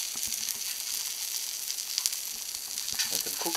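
Eggy bread fries in a hot pan with a steady, close crackling sizzle that carries through the whole stretch, with a few sharper pops and faint kitchen clinks mixed in.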